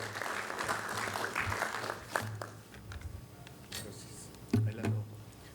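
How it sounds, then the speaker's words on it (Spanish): Applause from the audience at a national judges' plenary session greets a speaker, a sustained patter of clapping with voices talking over it and a couple of louder thumps near the end. "Los recibimos con fuertes aplausos."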